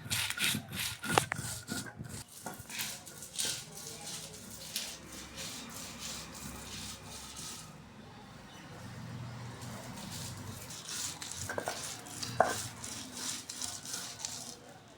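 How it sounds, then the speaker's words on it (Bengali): Dried chilies are ground by hand into a paste for a spicy mango pickle. A close, steady rough scraping and rubbing continues throughout, with a few sharper knocks. "শুকনো ঝাল বাটা হচ্ছে।"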